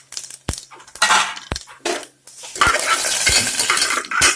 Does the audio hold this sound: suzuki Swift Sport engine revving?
no